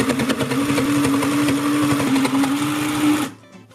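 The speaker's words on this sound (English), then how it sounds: "We can sew the rest of our eyeglass case together." A thread-free Sew Cool toy sewing machine stitches fabric for an eyeglass case, giving a steady buzzing motor whir for about three seconds before it stops abruptly.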